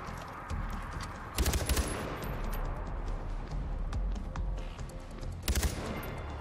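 A big mounted machine gun in Far Cry 4 fires in two heavy, loud bursts around a steady background of game noise and faint distant shots.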